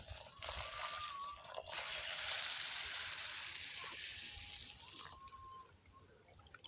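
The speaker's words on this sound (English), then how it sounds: "you add fresh water suitable for domestic use" Fresh domestic water pours steadily into a container of soaking fodder seeds, a continuous faint splashing stream with a brief gap partway through, tapering off near the end.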